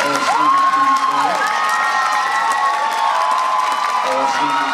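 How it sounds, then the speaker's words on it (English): A school audience at a winter concert claps, cheers and whoops for seniors receiving jackets, with shrill shouts rising over steady applause, loud and close for several seconds. "Give them a big round of applause."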